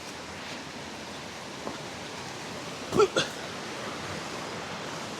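A steady, broad rush of flowing stream water near the Ruskebe Waterfalls in Londiani, Kericho County, Kenya, with a soft constant hiss and a couple of brief knocks.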